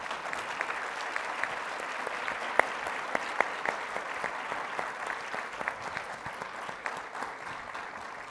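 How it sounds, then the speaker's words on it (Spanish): Audience applause at an international law congress debate on due process, a steady, dense wash of clapping lasting throughout with a few sharper individual claps standing out. "merece este aplauso gigante que ahora nos van a regalar"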